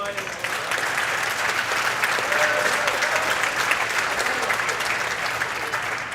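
A gym crowd at a junior boys volleyball all-star game claps and cheers continuously, a loud sustained roar of applause with scattered voices underneath.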